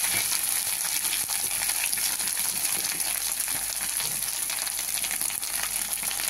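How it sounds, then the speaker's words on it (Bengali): Ginger and spices fry steadily in a pan for daliya khichuri, with a dense, continuous hiss and crackle of hot oil and occasional stirring, close and alone with no talk. "একটু মশলাটা কষে নিই হালকাভাবে।"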